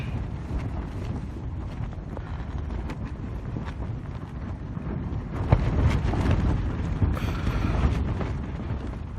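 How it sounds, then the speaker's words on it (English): Strong 25-mile-an-hour gusts on Kilimanjaro between Karanga and Barafu camps, a loud continuous rushing roar buffeting the microphone, swelling harder in the second half. "we've got 25-mile-an-hour winds outside"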